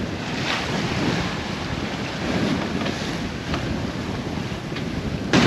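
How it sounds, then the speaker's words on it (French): Strong wind of about 22 to 23 knots roars across a sailboat off Sardinia, with waves rushing steadily beneath it; dense, continuous noise, loud and buffeting the microphone throughout. "Alors là ça burle carrément. Il y a 22-23 nœuds de vent."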